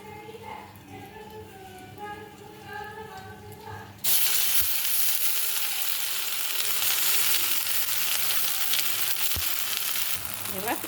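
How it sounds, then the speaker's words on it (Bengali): Ground taro paste dropped into hot mustard oil with nigella seeds in a wok bursts into a sudden loud, sustained sizzle after a quieter stretch, close and steady, with a couple of faint knocks. "এবার কচু বাটাটা কড়াইতে দিয়ে দিলাম।"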